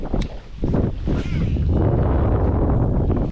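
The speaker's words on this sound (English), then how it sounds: "The wind today isn't terrible. It's just that the fact that it's gusting like 23 miles an hour" Strong gusts of wind by a river in cold weather buffet the microphone, a loud continuous roar with rough swells that muffles a brief stretch of voice at the start.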